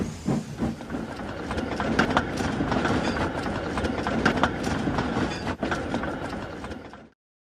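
A steam train chugging along the tracks with rhythmic clickety-clack and hissing, loud and steady, then cutting off abruptly near the end.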